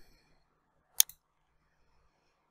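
A single computer mouse click on a drop-down menu in Microsoft Word, a crisp isolated tick with a faint second release click, alone in near silence.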